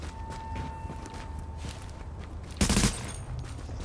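A short burst of rapid automatic gunfire in the video game The Division, loud against a faint background of footsteps and game ambience, no talk.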